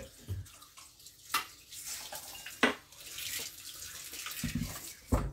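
Tap water runs while a bowl is rinsed out, giving a steady splashing flow broken by a few louder clunks and sloshes nearby.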